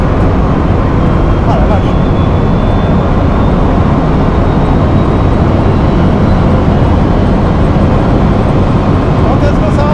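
A Bugatti Chiron Pur Sport accelerates at full power, heard from inside the car as a loud, constant roar that fills the whole clip, while an occupant briefly exclaims over it.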